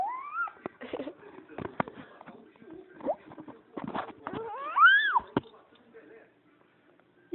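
A voice imitates a cat, giving a few rising and falling meows in a quiet room, mixed with soft taps and brief pauses between calls.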